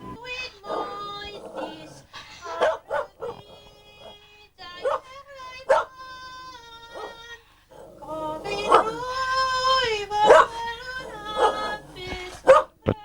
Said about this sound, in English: there's nothing she enjoys more than having a duet with her favourite dog